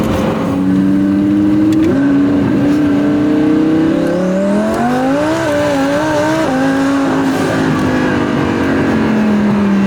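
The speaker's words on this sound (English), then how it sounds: "I've never done a pull that crazy in any of these cars" A 1,500 hp twin-turbo rear-wheel-drive car at full throttle, its engine roaring loud and close as rising and falling harmonic sweeps track the revs through the run, with no talk.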